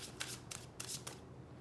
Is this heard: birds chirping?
no